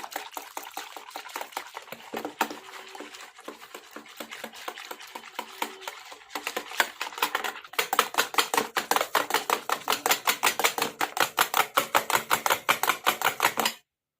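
Milk for a semolina cake batter is whisked by hand in a bowl, a steady rapid clicking rhythm that quickens and grows louder toward the end before stopping abruptly.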